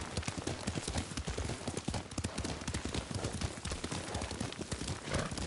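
Horse hooves pounding in a fast, steady galloping rhythm while riding in Ghost of Tsushima, loud and close with no talk over them.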